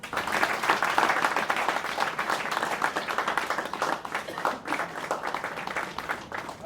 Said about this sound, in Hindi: इसके लिए जोरदार ताली।